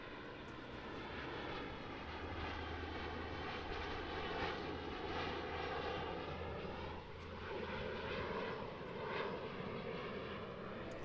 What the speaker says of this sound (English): I'm going to zoom in case they do another flyby